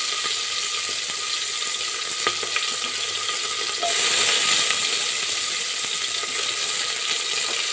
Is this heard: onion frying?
yes